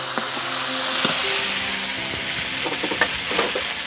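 Ground cumin, ginger and dried chili pastes fry in oil for a sea tangra fish curry, giving a loud, continuous sizzle with occasional scrapes of stirring.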